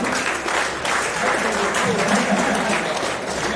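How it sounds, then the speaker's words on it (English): Steady applause from a crowd at a boxing hall of fame ceremony, dense continuous clapping filling the room for several seconds, fairly loud, with faint voices mixed underneath. "big round of applause for Brad, please, ladies and gentlemen"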